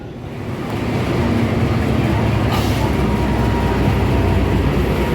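Taksaka executive train with New Generation cars arriving on platform 2 at a station, a loud continuous rumble and rolling rail roar that builds in the first second and then holds steady.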